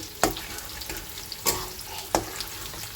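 Potatoes fry in a pan with an even hiss of oil, broken by three distinct scraping knocks of a spatula stirring them, heard up close without any talking.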